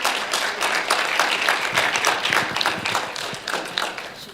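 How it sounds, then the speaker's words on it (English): An audience at an annual meeting breaks into steady, dense applause. Many hands clap together, fairly close and sustained, with no talking over it. "let's give her a round of applause for that"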